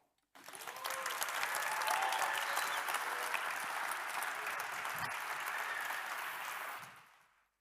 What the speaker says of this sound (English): Let's welcome a very, very special group of companies with a big round of applause.